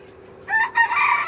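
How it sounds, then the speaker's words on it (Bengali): Rooftop coop chickens of local, Fayoumi and tiger breeds, with two close, loud bursts of crowing and clucking from the fowl after a quiet start. "এই যে মুরগি।"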